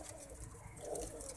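Pigeons coo softly in a brief, low, muffled burble, faint and close, with no voices.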